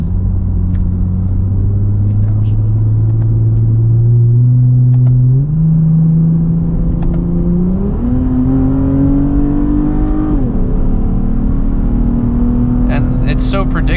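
A Lexus IS250 F Sport sedan accelerates hard under a loud, close engine note. The revs climb steadily and drop briefly at each of several gear changes, then pull upward again with a deep, continuous growl.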